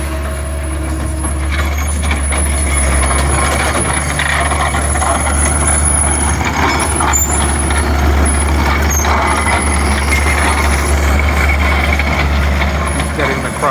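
Heavy machinery drones loudly and steadily throughout, consistent with a skid steer moving and spreading crushed rock behind a small retaining wall under construction, with a constant low engine rumble and some mechanical clatter.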